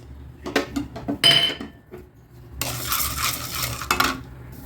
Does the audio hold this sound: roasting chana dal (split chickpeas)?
yes